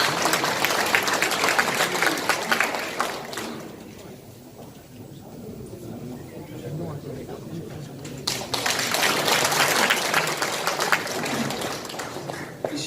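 An audience at an economic forum in Gumi applauds loudly and continuously. The clapping dips briefly in the middle, where a voice is heard over it, then swells again.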